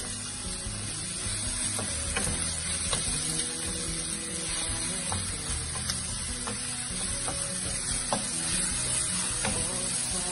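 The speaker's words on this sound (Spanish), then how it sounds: "le echamos los champiñones que ya hemos picado anteriormente y lo mezclamos y dejamos que cocine un poquito" Chopped mushrooms fry with onion and garlic in a pan while being stirred, giving a steady sizzle with regular light knocks and scrapes of a utensil against the pan, alone without talk.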